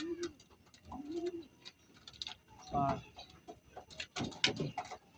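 Pigeons coo and murmur inside a loop flyer cage, soft repeated throaty calls and low rustling up close, with someone talking quietly between them.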